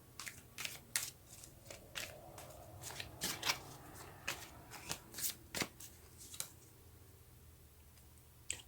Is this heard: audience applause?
no